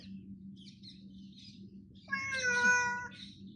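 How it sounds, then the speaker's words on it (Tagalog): A cat indoors on a cold night gives a clear, drawn-out meow near the end, over a low steady hum, with a few faint chirpy sounds before it. "Isama ko yung pusa dito sa kwarto ko."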